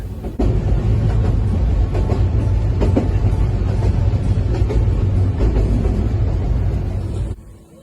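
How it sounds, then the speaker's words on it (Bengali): A loud, steady rumble of the Kishoreganj Express rolling along the tracks from Dhaka to Kishoreganj, continuous and close, with faint rhythmic clatter, then fading at the end. "রেলের শব্দ রেলের এই আওয়াজগুলো আমার স্মৃতিতে অনেক কিছু জড়িয়ে আছে"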